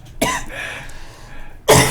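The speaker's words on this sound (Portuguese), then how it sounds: "eu vou precisar tossir de novo." Two sharp coughs from one person, about a second and a half apart, the second louder and harsher, with quiet room noise between them.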